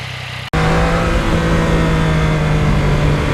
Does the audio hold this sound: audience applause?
no